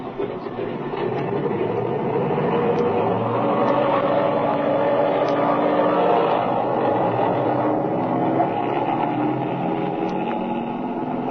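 A warmed-up airplane engine drones loud and steady, rumbling continuously for several seconds, with faint rhythmic clicking and rattling mixed into the roar.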